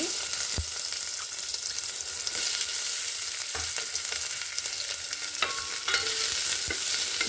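Onions fry in a spoonful of oil, sizzling steadily up close while a spoon stirs and scrapes the pan in occasional sharp clinks and knocks; no voices.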